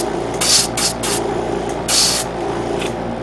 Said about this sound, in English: I'm going to re-spray paint this tone.